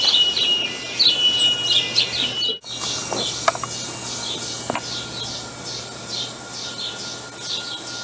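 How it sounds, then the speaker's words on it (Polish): Night jungle ambience: dense chirping birds and a steady insect drone of crickets fill the scene at moderate level, with a brief near-silent gap partway through and a few sharper calls standing out. "Tak, to jest naturalny głos dżungli."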